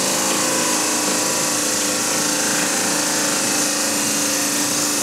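Small wood lathe spinning a lampshade blank while a Forstner bit bores into it, giving a steady, loud mechanical whir with a constant tonal hum and no talking.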